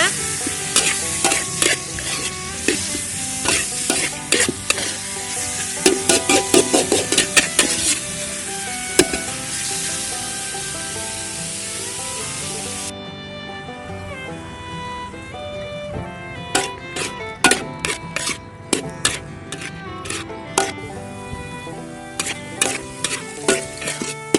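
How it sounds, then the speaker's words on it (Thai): Pork tenderloin stir-fried with Chinese herbal spices in a hot pan, a loud continuous sizzle with rapid metallic clanks of the spatula striking the pan in bursts throughout. "เราจะทำการผัด เนื้อสันในหมูให้เข้ากับเครื่องยาจีนของเราไปสักพักหนึ่งนะคะ"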